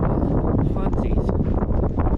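Strong wind blowing snow outside a shop, a heavy, continuous rumbling gust buffeting the microphone without letup.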